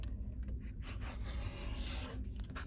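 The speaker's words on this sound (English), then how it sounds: "then I'm going to use my add-a-quarter ruler and my mini rotary cutter" Quilt fabric trimmed with a mini rotary cutter run along an add-a-quarter ruler, a steady close rasping rub that lasts the whole moment without pause.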